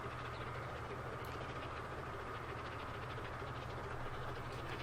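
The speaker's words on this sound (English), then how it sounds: "Watch the train rolling past." Train rolling past in the game Transport Fever 2, a steady low rumble and engine drone running continuously at moderate volume with no talk over it.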